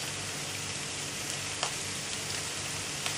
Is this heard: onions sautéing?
yes